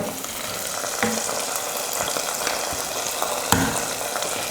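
Hot tempering poured into sago and lentil payasam, a continuous sizzle with scattered pops and crackles, fairly close and steady throughout.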